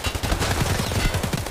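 An SA-58 rifle firing in Escape From Tarkov: a rapid, dense stream of loud, close automatic shots with a steady fast rhythm throughout, no talk over it.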